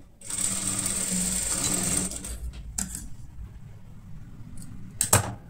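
A sewing machine stitches a deep-neck princess-cut blouse in a close, steady whirring run of about two seconds, followed by quieter pauses and a few short clicks and bursts of stitching.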